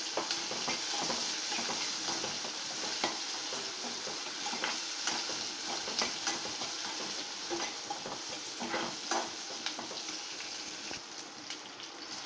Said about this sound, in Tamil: அடுத்தது வெங்காயம் ஆட் பண்ணுறோம்.